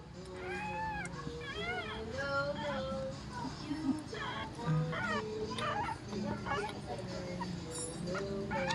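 High, wavering whimpers from a dog, repeated in rising and falling cries, mixed with people talking nearby.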